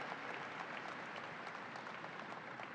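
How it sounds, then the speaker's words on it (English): Crowd giving a round of applause for labor workers at a New York State event opening, a steady dense patter of clapping held evenly throughout, fairly distant in a large space. "let's give a round of applause for men and women of labor"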